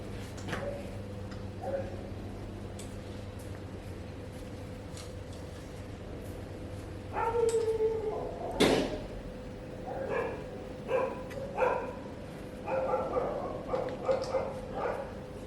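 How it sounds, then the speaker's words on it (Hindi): A dog barks at night several times, distant and fairly faint, in short intermittent bursts over a quiet background hum. "कुत्ता है।"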